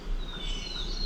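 A small bird sings outdoors at a motorcycle campsite in the Smoky Mountains, giving a faint, thin, high whistling call that slides downward over a low background hum.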